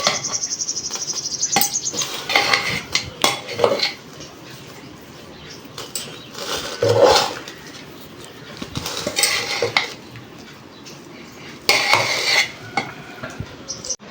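Biryani with ghee is stirred in a cooking pot, a spoon scraping and clinking against the metal in irregular bursts over a soft background hiss and chirping, close and moderately loud, with no talking.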